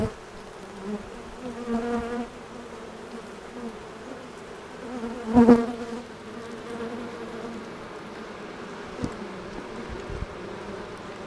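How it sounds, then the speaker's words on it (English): Agitated honeybees buzz around an open backyard hive in a suburban setting, a steady faint drone punctuated by louder close passes as individual bees zip past the microphone. "Bees are starting to get a little agitated."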